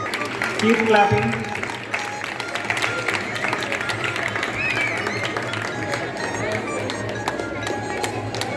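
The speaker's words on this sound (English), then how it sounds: "Keep clapping." An audience claps at a prize distribution ceremony, with steady, dense applause that keeps going throughout, and a crowd murmur underneath.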